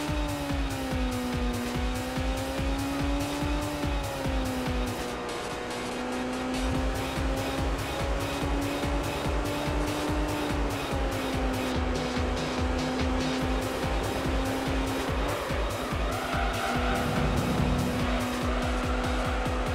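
Honda S2000 in Gran Turismo 4 revving hard at a 3000 RPM launch, then pulling through gears, its engine note rising and dropping with each shift over steady tire noise, loud and continuous with no voices.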